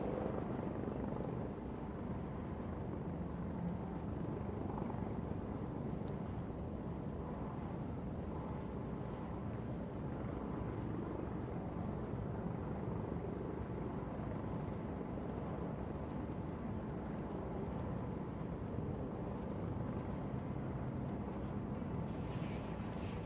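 A Coast Guard helicopter with a 39-foot-1-inch main rotor hovers during a rescue hoist demonstration at an air race event, a steady, unbroken rotor and engine drone heard from a distance throughout.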